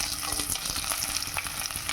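Tomatoes tossed into onions already fried red in hot oil, a dense continuous sizzle and crackle with light stirring scrapes, close and steady.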